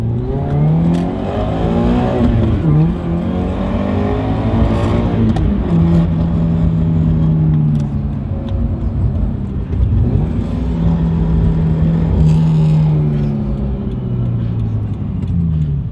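A car engine revs hard, its pitch sweeping up and down repeatedly as it accelerates nearby, loud and continuous throughout.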